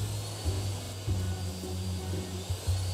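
A vacuum cleaner in the mobile puzzle game HELP ME tricky puzzle gives a steady, low droning hum with a few slight surges, running continuously without speech.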